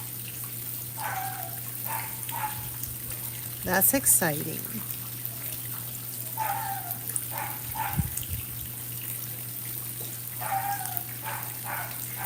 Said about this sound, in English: I'm sorry about the dog.